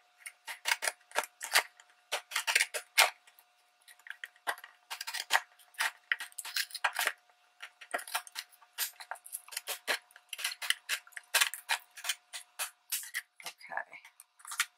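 Deckle scissors snipping through glued packaging, a rapid run of crisp close cuts and clicks in uneven bursts with short pauses, fairly quiet and without talk.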